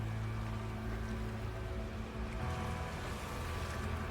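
Ocean waves and wind on a planet in No Man's Sky form a dense, continuous rushing wash with a low tonal hum beneath, steady throughout with no speech.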